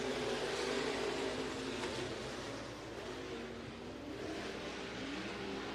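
IMCA stock cars in a heat race at Eagle Raceway power off turn 4, a dense, sustained roar of several engines revving together at close range without letup.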